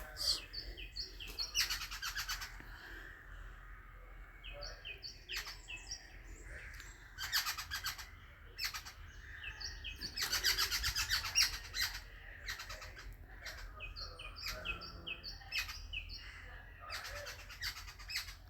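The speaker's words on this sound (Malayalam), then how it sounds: "പക്ഷി വന്നുകൊണ്ട് ചിലക്കുന്നുണ്ട് കേട്ടോ എൻ്റെ അടുത്ത് പൂത്താങ്കിരി" Harsh, chattering jungle babbler calls come in repeated bursts, squawky and busy, as if a small flock scolds nearby over a steady background hum.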